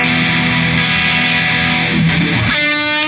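Sustained distorted electric guitar tone through an auto-wah pedal in auto mode, with a sweeping, wah-like filter; the timbre shifts abruptly near the end as a new note rings out.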